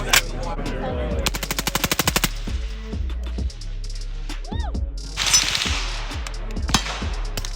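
Suppressed full-auto gunfire at an outdoor range: a rapid burst of clipped, muffled shots, then a few single shots echoing, with people talking faintly in between.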